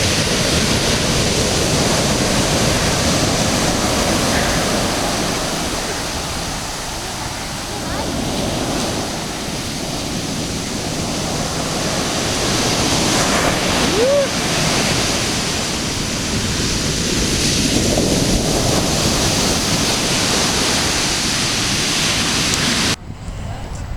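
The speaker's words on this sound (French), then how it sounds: "Regardez-moi ces vagues et ce bruit." Ocean waves at Nazaré beach in Portugal roar as a dense, steady wash of surf noise that swells and eases across the whole stretch, with wind buffeting the microphone.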